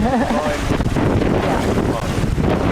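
Steady wind rushes and buffets across the microphone while sailing a boat on Hickling Broad, a broad continuous roar with gusty swells, and a voice speaks briefly over it near the start.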